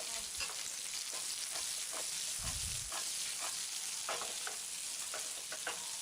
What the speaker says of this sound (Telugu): క్యూబ్స్లా కట్ చేసుకున్న ఉల్లిపాయ ముక్కలను వేసుకుని వేయించిన తర్వాత బెల్ పెప్పర్ అంటే క్యాప్సికమ్ ముక్కలను కూడా వేసుకుని ఫ్రై చేసుకోవాలి